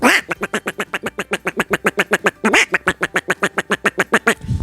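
A man imitates a duck, quacking rapidly in a long steady series of nasal quacks, loud and close, with a brief pause partway through.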